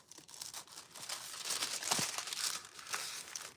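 A plastic bag holding craft foils crinkles and rustles up close in irregular bursts of crisp crackling, sounding alone without speech.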